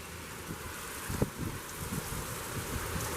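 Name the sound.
gusty wind in a thunderstorm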